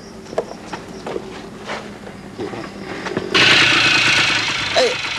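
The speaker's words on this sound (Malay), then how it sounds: "Macam mana start motor ni?" A motorbike engine catches partway through and settles into a loud, steady running buzz, after quiet shuffling and light knocks nearby.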